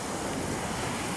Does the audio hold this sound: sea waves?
yes